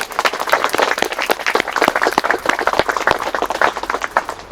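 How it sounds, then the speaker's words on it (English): Wedding guests at a ceremony clap together in a lively, uneven patter of distinct hand claps, fairly close and sustained at moderate loudness with no speech over it. "A big round of applause, please."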